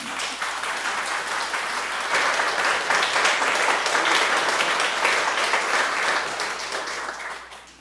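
Sustained congregation applause fills a church sanctuary during a 70th-anniversary Sunday service at a Seoul church, a dense even roar of many hands that holds steady and tapers at the end, with no talking over it.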